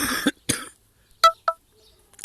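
Two short coughs in quick succession, fairly close, after a couple of brief bursts of sound, then quiet.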